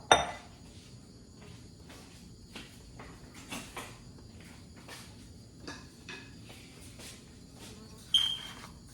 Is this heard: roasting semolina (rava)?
yes